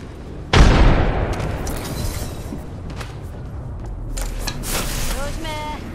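A grenade goes off in Apex Legends: one sudden, loud blast that rolls off into a decaying rumble, followed by scattered gunfire, game effects and voices.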